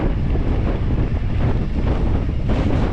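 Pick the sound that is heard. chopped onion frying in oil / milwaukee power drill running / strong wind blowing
strong wind blowing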